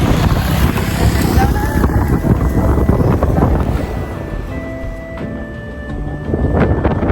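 A gust of wind blows outdoors in the highlands, roaring and buffeting loudly and steadily against the microphone, with people talking underneath.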